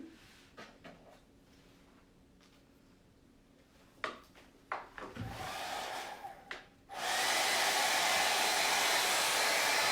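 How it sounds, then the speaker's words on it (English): A few clunks and rustles, then a regular hair dryer is plugged in, switches on and roars steadily, loud and close, continuing to the end. "what I want to do, is use just a regular hairdryer"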